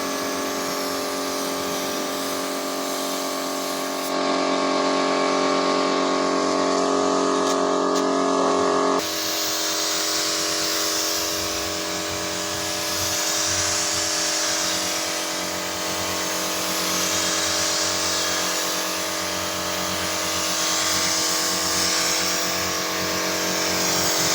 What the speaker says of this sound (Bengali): গ্লেসটা খালি দেখুন, গ্লেস করা হচ্ছে।